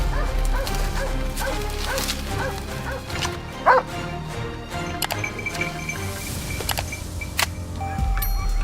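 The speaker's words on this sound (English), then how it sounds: "the sharp barking of our hounds and shouts from teammates filled the air" Hunting hounds barking repeatedly at wild boar in woodland at night, sharp overlapping barks and yips close by, with scattered thuds and clatter between them.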